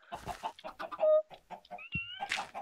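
Chickens cluck in a video game, a busy stream of close, bright clucks and squawks in quick irregular bursts with a few drawn-out tonal calls, no talk over them.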